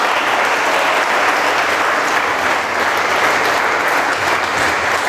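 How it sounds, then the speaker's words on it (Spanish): Steady, dense clapping from a church congregation applauding the Lord during a Spanish-language service, loud and continuous with no speech over it. "Denle palmas al Señor."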